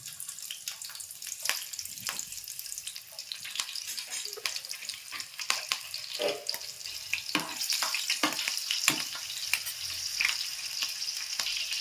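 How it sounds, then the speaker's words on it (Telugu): Green chilies frying in a small amount of oil for a chicken curry give a steady close sizzle, broken by scattered spatters and the scrape of stirring throughout, with no talking. "ముందుగా పచ్చిమిర్చి అయితే వేస్తున్నాను."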